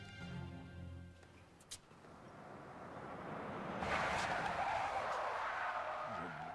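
A car driven recklessly skids with a long, loud tire squeal that swells in the second half, after a quieter stretch of music and a brief knock near the start.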